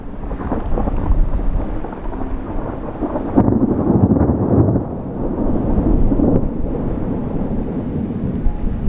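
A roaring thunderstorm with heavy rumbling thunder and steady rain, wind buffeting the microphone throughout, loud and continuous.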